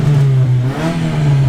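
A car engine revs steadily after its clutch has burned out, giving a continuous loud drone that holds level without any talk over it.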